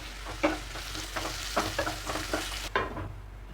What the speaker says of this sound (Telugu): మంటని హై ఫ్లేమ్లో పెట్టుకొని ఈ మసాలాలతో పాటు ఆలుగడ్డని ఆయిల్లో బాగా ఫ్రై చేస్తున్నాను, అటు ఇటు కలుపుతూ